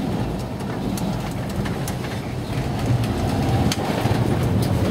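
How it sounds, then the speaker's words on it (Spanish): A Volkswagen Kombi van's engine roars steadily and loudly from inside while driving, with a constant low rumble and broadband road noise building slightly toward the end. "Escucha cómo ruge el motor."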